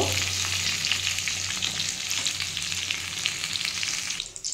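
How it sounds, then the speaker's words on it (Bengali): Pointed gourd (potol) fries in hot oil in a pan, a steady bright sizzle holding close and fairly loud throughout before easing slightly at the end. "আমার পটলটা ভাজা হয়ে এসছে"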